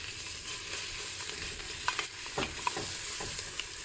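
Tomato and pepper paste sizzle in a pan over softened fried onions for a lentil soup, a steady frying hiss broken by several clinks and scrapes of a stirring spoon, close and fairly quiet.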